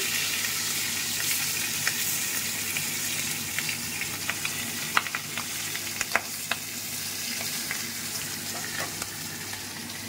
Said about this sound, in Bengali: এবার মাছটা ভাজা বসিয়ে দিয়েছি।